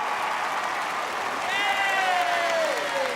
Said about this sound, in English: Please cheer for yourselves.